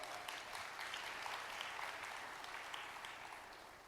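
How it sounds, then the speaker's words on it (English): Applause from the audience at a convention dinner fills the room, a dense and steady patter heard from a distance that fades out gently at the end. "let's give him a round of applause."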